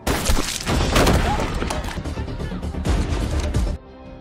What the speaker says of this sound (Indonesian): Tiba-tiba si Robert melepaskan tembakan ke arah Jack